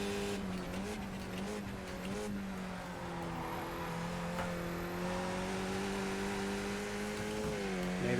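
A Skip Barber race car in iRacing at Zolder brakes and drops down through the gears, its engine tone stepping and revving in a continuous near drone with faint tyre noise.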